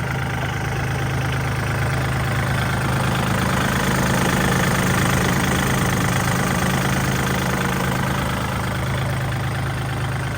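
Kubota L4018DT tractor from 2018 idling steadily at close range, a continuous low diesel rumble with a faint knocking texture that holds even throughout, with no talk.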